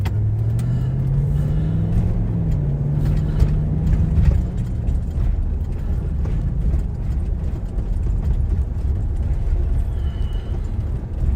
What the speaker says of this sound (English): you are riding in the back seat of my Chevy Tahoe